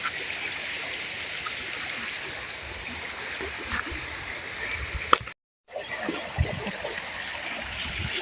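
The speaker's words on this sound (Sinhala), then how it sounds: "මේ කුඹුරු වලට වතුර ගහන තමයි මේ ඇල මාර්ගේ තියෙන්නේ." Water rushes steadily along an irrigation canal feeding paddy fields, a continuous close stream with a brief dropout partway through and no talking.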